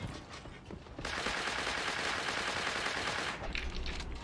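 Turret gunfire in the video game Creative Destruction, with a sparse shot or two, then a loud sustained automatic burst from about a second in until near the end.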